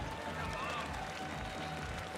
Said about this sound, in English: Come on, make some noise from the German rider, Lucas Eisensmith.